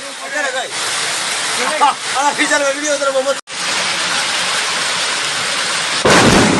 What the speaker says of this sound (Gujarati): શક્તિનગરમાં વીજળી પડી